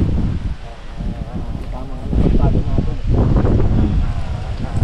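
Strong gusts of wind buffeting the microphone in a low, rumbling roar at a tomato field, steady throughout with a surge midway.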